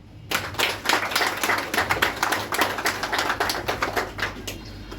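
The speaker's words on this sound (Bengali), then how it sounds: "ওদের সবার জন্য তালি হবে।" A room of students claps together for newly arrived classmates at an orientation class, a steady burst of hand claps starting abruptly and continuing without talk.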